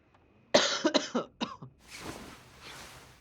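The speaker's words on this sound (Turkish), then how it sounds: "Pardon biraz bazen sert öksürüyorum" A man coughs hard several times in a quick, close burst, followed by a brief spell of quieter breathy noise.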